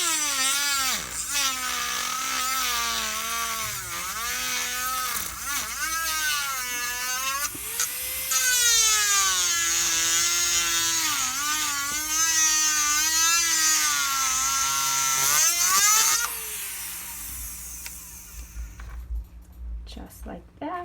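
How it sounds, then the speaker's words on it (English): A thin rotary burr cutting and widening a slit, buzzing steadily at close range with rising and falling pitch as the load changes, carrying on almost without a break and stopping near the end. "I will take the skinny burr and just make the slit a little bit bigger"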